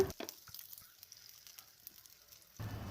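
Shallots and curry leaves frying in hot oil give a faint, quiet crackle with a few small pops, then a louder burst of sizzling near the end.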